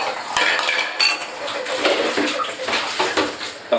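Dishes washed in a bathtub: clinking cutlery and clattering pots and pans mixed with splashing water, steady and close throughout with a few sharper knocks.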